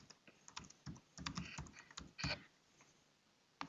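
Quick bursts of keystrokes on a computer keyboard as a password is typed, close and clear, clustered clicks followed by a pause and a final key press, with no talking.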